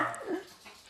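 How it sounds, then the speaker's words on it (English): Dogs bark at home as a visitor arrives, a short, faint burst of barking and yipping lasting about a second. "These dogs."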